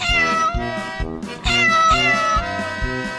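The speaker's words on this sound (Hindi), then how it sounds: "अरे चिंटू, वो देखो, बिल्ली अपने सभी बच्चों को हमारे घर लेकर आई है।" A cat meows repeatedly over loud, rhythmic background music with a steady pulsing beat.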